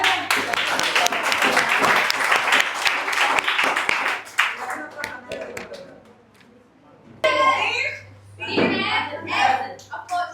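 An audience at a PhysicsWallah Vidyapeeth Tamil Nadu quiz competition claps in a loud burst that fades after about four seconds, followed by scattered bangs and voices talking nearby.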